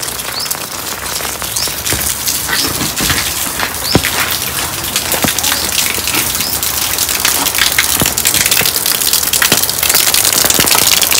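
Steady rain patters on surfaces outside a temple, with scattered louder drips and taps, continuous and fairly loud throughout, no voices.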